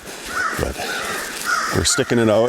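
Crows caw outdoors on a winter hike in Minnesota, several harsh calls spaced through the clip, fairly close, with a person talking over them.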